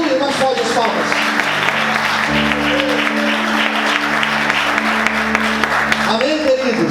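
A church congregation claps together in sustained applause, loud and continuous throughout, with steady music tones sounding underneath.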